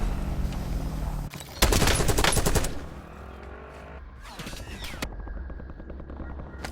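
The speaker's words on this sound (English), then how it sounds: "Taking effective fire!" Automatic gunfire from the video game Call of Duty: Warzone, a loud close burst of rapid shots followed by further scattered shots and a shorter volley, with mechanical noise underneath.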